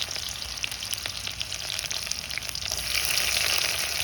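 Onions hit hot oil in a pan for village-style mutton curry, giving a steady bright sizzle and crackle that swells louder partway through.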